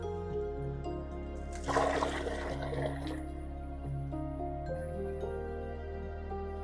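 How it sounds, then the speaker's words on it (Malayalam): Water drawn from a well is poured out in a brief splashing gush against a steady low hum, then settles to a faint trickle, near and moderately quiet with no talk. "അപ്പോൾ നമുക്ക് ഈ വെള്ളം കൂടെ ഒഴിക്കാം"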